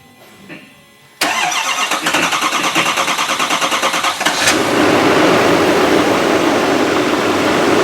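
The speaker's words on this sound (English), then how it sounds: "Starts like a brand new truck." A 2024 GMC Denali Ultimate HD 2500 truck engine cranks briefly, catches and settles into a loud, steady idle close by, with a faint clunk before the crank.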